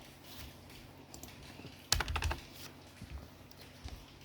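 Someone types on a computer keyboard while writing HTML code, with sparse soft clicks followed by a quick, louder burst of keystrokes midway and a few scattered taps after, all close and fairly quiet.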